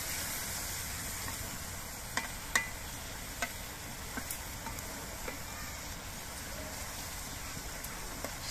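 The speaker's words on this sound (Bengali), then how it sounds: "আর একটু নেড়ে চেড়ে দেখে নিচ্ছি যে শিমগুলো সেদ্ধ হয়েছে কিনা।" Cooked broad beans are stirred in a pan, making a steady soft sizzle and hiss with a few faint scraping clicks of the spoon. The sound is quiet and continuous, with no voices.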